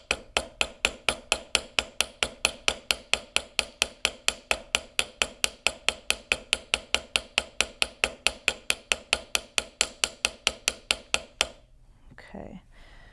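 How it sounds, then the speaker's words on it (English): Steady, rapid hammer strikes on the end of a metal wire for earrings, dozens of crisp evenly spaced taps close up, stopping abruptly near the end with a brief rustle. "And then I'm going to hammer this end."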